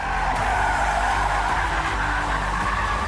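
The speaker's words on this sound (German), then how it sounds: "Jetzt höre ich schon wieder Reifen." Loud, continuous tire squeal as an Audi drifts, a sustained screech over the low roar of an engine, with no talking.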